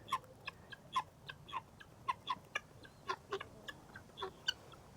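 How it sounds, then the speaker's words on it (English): Guinea fowl call in a string of sharp, repeated metallic chirps and cackles, more than a dozen bursts at an irregular rhythm, moderately distant over quiet outdoor background. "I just like that sound of the guineas."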